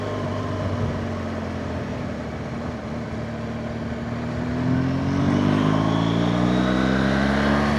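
A BMW motorcycle ridden along the winding Samoeng loop roads: a steady engine rumble that rises in pitch and grows louder as the bike accelerates in the second half.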